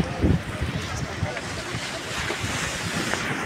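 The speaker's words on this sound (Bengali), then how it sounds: "দেখুন ওই দিকে ঢেউ" Sea waves wash ashore at Digha beach, a continuous broad surf roar mixed with wind buffeting the microphone, with a stronger swell early on and faint voices in the background.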